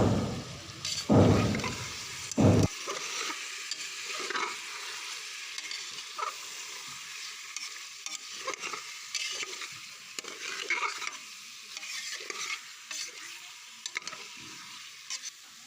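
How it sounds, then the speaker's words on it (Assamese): Chicken stirred and frying in a pan sizzles steadily for over ten seconds, with a loud scraping clatter at the start, then repeated stirring scrapes over a constant hiss. "তাৰপিছত এইখিনিৰ লগত ভালদৰে 5 মিনিটমান মিলাই ল'ম, ভাজি ল'ম।"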